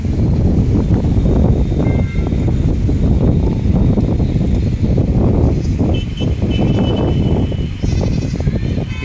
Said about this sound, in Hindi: हवा कितना से चल रहा है।